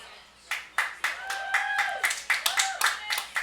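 A small family group claps rhythmically for their player at a summer-league baseball finals game, Lexington Blue Sox at Reading Bulldogs, with distinct, fairly close hand claps in a steady even beat.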